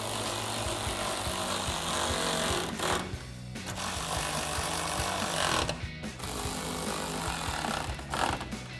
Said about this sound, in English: take our 10mm socket to tighten them all down